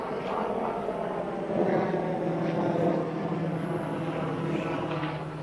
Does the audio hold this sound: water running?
no